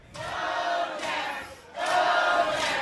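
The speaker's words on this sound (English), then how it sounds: "Crowd chanting for BOJACK." A wrestling event crowd chanting in loud, rhythmic bursts, three swelling waves of massed voices filling an arena, with no commentary over them.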